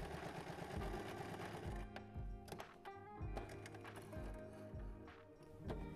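A sewing machine stitches the side seam of a fabric envelope-style book pouch, running steadily with a rapid mechanical chatter and rhythmic thumping close by, with no talking.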